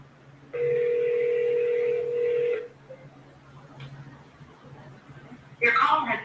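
A phone call placed during a live wholesaling sales session rings out with a steady electronic tone for about two seconds, then goes quiet, followed by a short burst of voice-like sound at the end.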